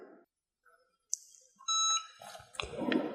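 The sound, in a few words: heat press timer beep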